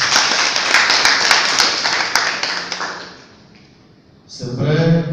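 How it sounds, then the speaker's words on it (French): An audience at an m-learning event in Abidjan claps in a quick run of sharp, fairly close claps. The claps thin out and fade to near silence, then a voice starts speaking at the end. "Je voudrais qu'on applaudisse cette question."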